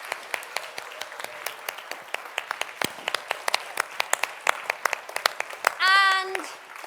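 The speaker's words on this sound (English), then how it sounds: "Let's finish with a big round of applause" Applause in a large hall at a children's reading event: sparse, separate hand claps from a small group, with children's voices and a brief high-pitched voice near the end.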